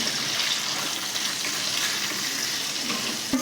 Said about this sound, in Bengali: পেঁয়াজগুলোকেও লম্বা করে কেটেছি, দিয়ে এগুলোকে একবার ভালো করে ভাজবো।